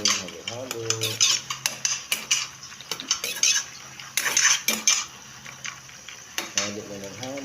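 A utensil stirs adobong sitaw in a pan, giving close, irregular bursts of metallic scraping and clinking with brief pauses, over a faint background of low sizzling and a murmuring voice.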